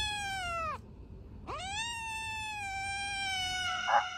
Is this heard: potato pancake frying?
no